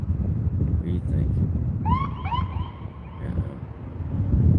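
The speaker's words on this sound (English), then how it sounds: "There's another ambulance behind me doing something." Ambulance siren wailing on 8th Street in Austin, a few rising and falling sweeps heard at moderate distance over street noise and wind buffeting the microphone.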